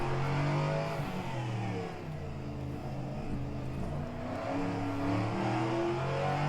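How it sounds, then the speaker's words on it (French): A car with a Nissan engine accelerates hard while drifting, its loud engine note climbing and shifting through rising and falling pitch sweeps, sustained and near. "cette espèce de son, c'est un moteur Nissan à l'intérieur si je dis pas de conneries"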